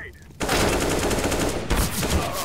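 Rapid bursts of automatic gunfire in a shooter video game, loud and continuous with a brief pause, over faint background chatter.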